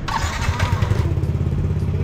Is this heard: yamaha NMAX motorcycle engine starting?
yes